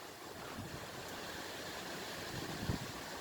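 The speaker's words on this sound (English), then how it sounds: "Check out how the wind is blowing." Strong wind blows outdoors among trees and cacti, a steady broad rushing roar with a few gusty buffets near the end, no voices present.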